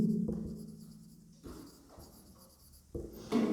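A pen scratches across paper while a formal letter is filled in. The strokes come in soft, close-up rubbing bursts with brief pauses between them, and no voice sounds over them.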